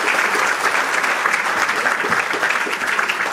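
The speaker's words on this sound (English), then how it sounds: "I think Danny Gill deserves a round of applause for putting this fantastic programme together" A room of people claps steadily at a memorial literary event in Galway, dense, even applause holding at full strength throughout without a break.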